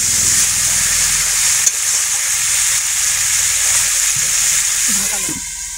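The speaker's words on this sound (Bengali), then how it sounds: "লবণ, হলুদ, নাড়াচাড়া করে সামান্য একটু জল দেবো।" Salt and turmeric stirred through sizzling food in a pan for a Bengali fish curry, giving a steady close frying hiss with light scraping stirs and a brief clink partway through.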